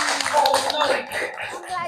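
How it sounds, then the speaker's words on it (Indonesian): A burst of clapping from a group of hands in a classroom, continuous and fairly loud throughout, with some voices mixed in. "Tepuk tangan untuk Ananda Arini."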